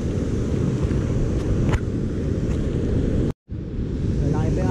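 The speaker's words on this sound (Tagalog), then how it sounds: "Malaki pa yung alon." Big ocean waves roll and rumble steadily on a shore during rough weather, a loud, continuous low wash with wind buffeting the microphone and a brief dropout near the end.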